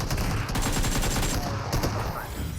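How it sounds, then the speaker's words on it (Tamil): Rapid, loud gunfire from the BGMI mobile game, with shotgun blasts among dense bursts of shots, runs continuously and close throughout. "ஏய் ஷாட் கன் ப்ரோ."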